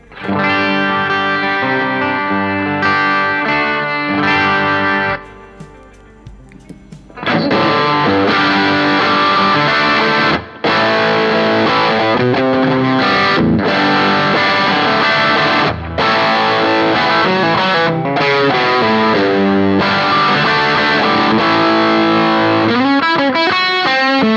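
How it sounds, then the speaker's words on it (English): An electric guitar plays chords and riffs through a BOSS DS-1 distortion model on a BOSS PX-1, heavily distorted, loud and saturated, with a brief quieter pause partway through. "This is the sound of the DS1 model in here."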